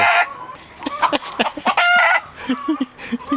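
Farmyard chickens clucking and cackling in a quick, uneven run of close calls, with a rooster-like crow mixed in among the hens.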